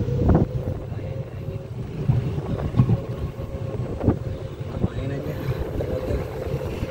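Wind buffets the microphone during a boat ride near a Bali hotel in Nusa Dua, rumbling gusts over a low engine-like drone, with voices talking faintly underneath.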